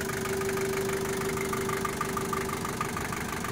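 A Daihatsu Taft Hiline Long Family Wagon 4x4 engine idles smoothly and continuously, a steady low hum with a faint even tone throughout and no voices.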